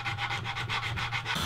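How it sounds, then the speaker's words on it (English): Sandpaper rubs back and forth along the edges of dyed reclaimed barn wood in steady, rapid strokes, close and continuous with no voices. "I'm gonna just break the edges with some sandpaper, and also I'll sand back a little bit of the dye"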